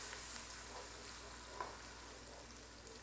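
Onion paste fries in hot oil in a pan for an ilish fish curry and is stirred now and then, producing a faint, even sizzle with occasional light spatula taps.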